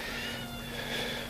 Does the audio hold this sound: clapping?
no